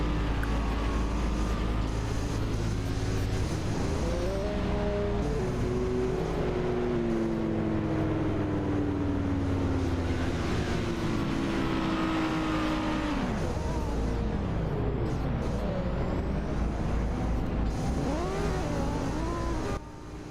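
GT3 race cars rolling out of the pit lane in a racing video game, engines droning loud and close, with rising and falling revs and gear changes as several cars pass.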